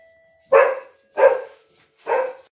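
A dog gives three loud, close barks, evenly spaced about two-thirds of a second apart, each short and full, in an otherwise quiet setting.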